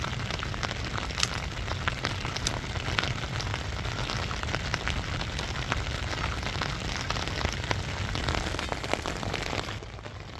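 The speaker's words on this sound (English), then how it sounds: "Rain is coming down a little bit harder now." Rain falls steadily on a tarp shelter, a dense continuous patter with scattered sharper drops hitting close by, loud and unbroken throughout, with no talking.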